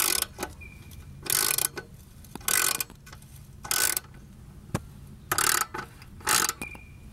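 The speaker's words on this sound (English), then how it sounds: "You just take your 12mm deep and fit it over that stud. And just turn it" Ratchet turning a 12mm deep socket on the chain adjuster stud of a 1981 Honda 185s motorcycle; close, loud bursts of rapid clicking repeat in regular strokes with brief pauses between.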